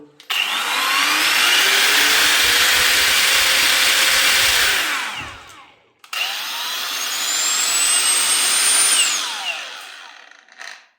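ProCraft brushless angle grinders of 1100 W and 1300 W spinning up to maximum speed, two loud sustained whining runs, each rising then winding down, separated by a short gap.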